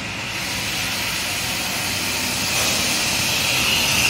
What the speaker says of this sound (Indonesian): Knalpotnya sos banget.